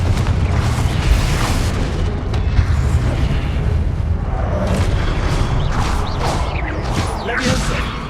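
Explosive blasts from a Confringo spell in the video game Hogwarts Legacy, a loud, dense barrage of booms and crashes with whooshing bursts layered over continuous battle noise, no talk.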